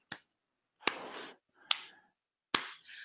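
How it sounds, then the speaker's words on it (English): Sharp hand claps keep time with a spoken chant in an English speaking exercise, four crisp near claps at a steady pace, each followed by a brief stretch of the person's voice. "you can hear how I'm clapping along"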